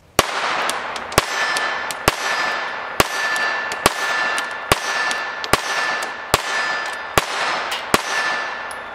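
A Walther PPK/S .22 LR pistol fires CCI standard velocity 40-grain rounds, about ten sharp, evenly spaced shots with a ringing metallic tail after each, loud and close, with no talk.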